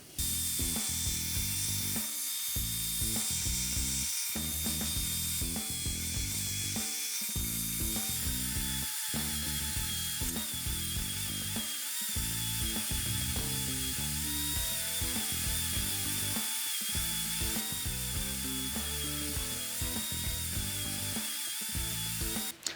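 A power tool strips cedar boards down to final width, a loud continuous mechanical whir broken by regular short dips and cuts as each pass goes through, with no talking.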